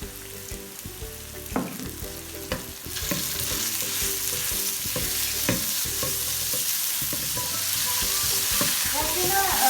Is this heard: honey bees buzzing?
no